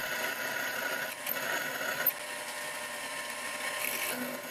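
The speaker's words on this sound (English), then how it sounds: "The drill cut pretty smoothly" A twist drill cuts holes into a die blank on a Proxxon PD 250 e lathe, a quiet, steady machine hum with a couple of small clicks, close and unaccompanied by talk.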